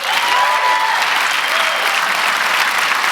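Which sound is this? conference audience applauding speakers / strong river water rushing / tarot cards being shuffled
conference audience applauding speakers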